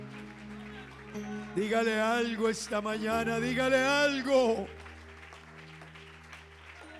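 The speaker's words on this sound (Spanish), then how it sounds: "Tómese un minuto para aplaudir a Dios y alabarle." A church congregation claps to praise God during a Spanish-language service, a steady background patter that sits under a preacher's loud, impassioned shouting.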